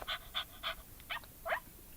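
A talking toy dog gives five short electronic barks in a quick, uneven series, faint and close with no other sound.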